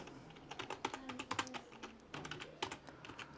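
Soft, quick keystrokes on a keyboard as a command is entered into a terminal, an irregular run of close, faint clicks in short bursts with brief pauses, no talk.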